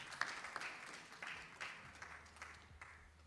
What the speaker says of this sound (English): Please, let's clap for them once again.